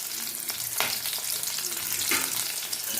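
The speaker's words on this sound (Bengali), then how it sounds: "রসুন কুচি দিয়ে একটু নেড়ে দিচ্ছি" Chopped garlic sizzling and being stirred in hot oil for a Bengali pabda fish curry, a steady close crackle with occasional scrapes of the spatula against the pan.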